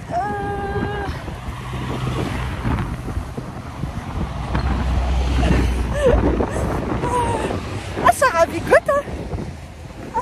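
Wind buffets and rumbles across an outdoor scene while people talk over it, the gusts swelling and easing with low roaring bursts.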